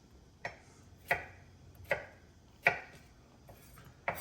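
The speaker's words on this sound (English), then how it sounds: "Just cut these last little 2 slices" A kitchen knife cuts the last slices of cucumber on a cutting board with four or five crisp, evenly spaced chops, close and clear, no talking.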